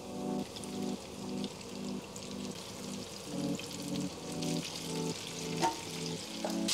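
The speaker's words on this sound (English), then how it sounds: "Got our oil at 175 Celsius. Let's chuck them in." Breaded rock cod fish wings deep frying in 175 °C oil, bubbling and crackling loudly and steadily throughout with no talking.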